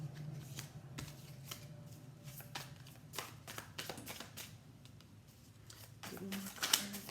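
Tarot cards being shuffled by hand, heard as repeated soft riffling and flicking bursts close to the mic against low room noise, with no talk during the shuffling.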